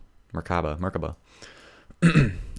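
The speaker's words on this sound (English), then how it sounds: "I need to clear my throat" A voice makes a short sound, then after a pause someone clears their throat once with a rough, close rasp.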